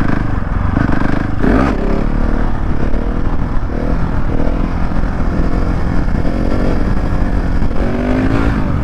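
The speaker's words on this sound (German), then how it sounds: "Fangen wir direkt mal an mit dem zweiten Gang, 30 km/h, also den Standard Wheelie mit der SMCR." A KTM SMCR 690 single-cylinder motorcycle pulls a wheelie in second gear at about 30 km/h, its engine loud and close with a brief rev surge early on, then a sustained gritty drone with shifting pitch.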